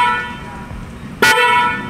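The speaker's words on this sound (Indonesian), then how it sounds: "kita tes nih bagaimana hornnya ataupun klaksonnya dibunyikan" A premium aftermarket horn fitted to a Wuling Air EV gives one short, bright honk partway through, standing out loudly over a quiet background.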